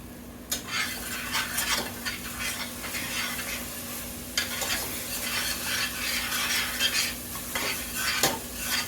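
Canned Mexican soup ingredients browning in a pan, a steady close sizzle with repeated scraping stirs of a utensil against the pan and a faint constant hum underneath.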